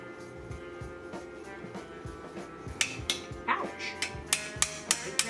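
Hand hammering of a copper cuff bracelet with a light hammer, a run of sharp metallic taps that starts sparse and grows into a steady rhythm of close, fairly loud strikes over a low background hum.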